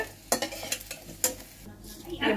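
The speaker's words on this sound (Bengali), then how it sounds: "সেইভাবে আমি সব বড়াগুলো ভেজে নিচ্ছি" Flour fritters (bada) fry in hot oil, with a soft, steady sizzle broken by a few sharp clinks and scrapes of a spatula against the pan, close and fairly quiet.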